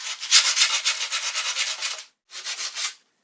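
Edges of skateboard grip tape being sanded by hand, rough scratchy strokes in quick rhythmic rubs for about two seconds, a brief pause, then a shorter burst of rubbing, close and alone.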